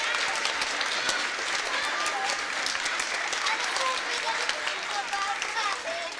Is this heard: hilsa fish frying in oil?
no